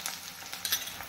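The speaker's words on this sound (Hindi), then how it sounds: "सारी चीजें को भून लेंगे अच्छे से।" Washed urad dal and chana dal roasting in a pan, with a soft, steady sizzle and faint scraping of stirring over about a second.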